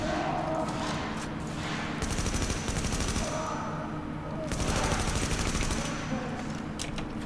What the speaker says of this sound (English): And do not get hit by his turret, it's quite dangerous.